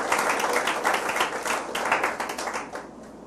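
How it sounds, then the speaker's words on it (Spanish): Church congregation applauding the Lord during a sermon, dense close-sounding hand clapping filling the room, gradually tapering off toward the end. "Dale un aplauso al Señor."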